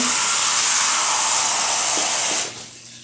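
Water pouring from a tap into a pressure canner: a loud, continuous rushing hiss that stops abruptly near the end, leaving quiet background, with no voices.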